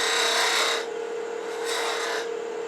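Wood lathe with a gouge taking a peeling cut on a small turned wooden acorn: a steady, close rasping shave that eases off briefly and returns, with no talk.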